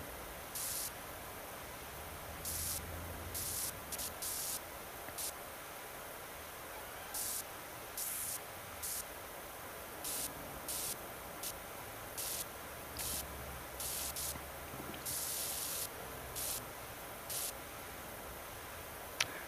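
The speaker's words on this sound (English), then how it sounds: "let's spray off our retro rug here" A power washer in PowerWash Simulator 2 sprays a retro rug with a steady, hissing jet of water. Short bursts of brighter spray flare up repeatedly over the constant rush, close and uninterrupted, with no speech.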